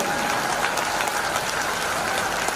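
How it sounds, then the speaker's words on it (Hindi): Steady applause from an audience at a Hindi-Urdu poetry recital (mushaira), a dense continuous wash of many hands clapping, loud and sustained throughout. "कमजोर ताली बजा रहे हैं"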